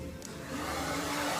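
Hair dryer blowing hot air down onto a model's short bob during salon-style styling, a steady broadband whoosh that grows louder about a third of the way in and holds.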